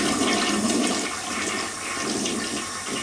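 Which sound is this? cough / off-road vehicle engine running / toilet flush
toilet flush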